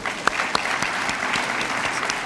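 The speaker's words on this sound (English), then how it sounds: "Let's give Dr. Taylor, our able MC, a round of applause as well" An audience at an African diaspora conference session claps steadily in a dense, even round of applause that lasts a couple of seconds, with a few sharper claps standing out near the start.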